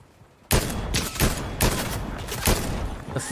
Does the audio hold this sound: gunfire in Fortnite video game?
yes